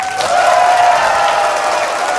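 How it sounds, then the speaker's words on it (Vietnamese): A theatre audience at a singing show bursts into a short, dense round of applause and cheering that holds loud and steady throughout. "Khán giả cho thêm tràng vỗ tay nữa nào"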